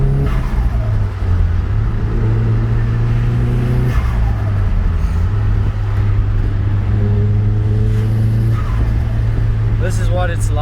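A Nissan S15 Silvia cruises along a road with the window open, its engine a steady, loud drone with shifting pitch throughout, while someone talks over it almost continuously.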